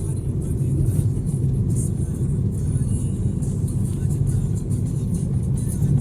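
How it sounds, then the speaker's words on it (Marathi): Steady engine and road rumble from inside a car driving along a rural road near the Biroba temple in the Sangli area, heading toward the Dhalgaon–Nagaj road; a continuous, even drone with no pauses. "आमची ही गाडी पुढे चाललेली आहे"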